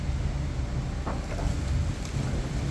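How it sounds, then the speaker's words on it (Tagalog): Steady wind buffeting a microphone, a continuous low rumbling roar with no clear breaks and no voices. "medyo mahangin."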